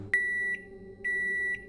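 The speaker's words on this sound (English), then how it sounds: "I waited, swaying back and forth for the beep to come, ringing out from the machine." A microwave oven beeps, a clear electronic tone sounding three times in a steady rhythm, close and moderately loud over a low background hum.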